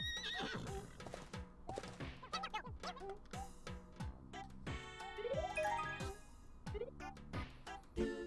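A horse in Miitopia whinnies loudly and repeatedly over a steady, rhythmic clip-clop of hooves.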